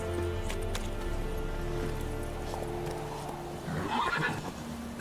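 Roach the horse in The Witcher 3 neighs and whinnies near the end, with hooves clip-clopping earlier over a quiet game background; moderately loud, close by.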